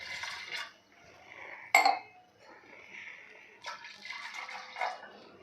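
Water is poured from a glass into a pressure cooker holding washed lentils, a soft liquid fill with a sharp glassy clink partway through, then more gentle pouring and faint voices.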